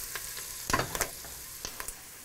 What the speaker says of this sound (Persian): ما این تایم سرخ کردنمون مجموعاً حدود 20 دقیقه خواهد بود